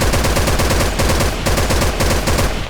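A rifle fires in rapid, evenly spaced bursts in the online shooter Special Force 2, loud and close, with sharp repeated cracks continuing throughout with no talk.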